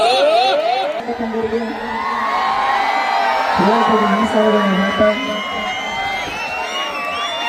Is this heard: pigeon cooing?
no